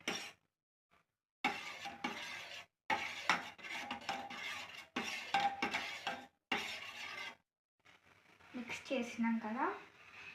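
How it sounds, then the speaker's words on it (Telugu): A spoon stirs fruit salad powder and milk in a dish, giving scattered close clinks and scraping strokes in short bursts separated by pauses, with a voice speaking at the end. "తర్వాత మనము మిక్స్ చేయాలి."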